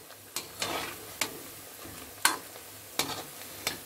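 Vadai fry in oil at medium flame, a soft steady sizzle punctuated by about six sharp clicks and taps of a utensil as the fritters are turned over.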